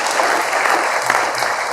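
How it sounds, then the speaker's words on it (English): An audience at a real estate investors' event breaks into dense, loud applause, a short continuous burst of many hands clapping. "So give yourselves a big damn round of applause."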